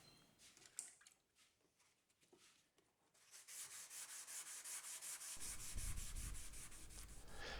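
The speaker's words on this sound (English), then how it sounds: "I'll give that a sand out now" Spot putty on a shower pan is sanded by hand. Quiet scattered scrapes and taps come first, then a steady, rhythmic rasping sanding builds and continues to the end.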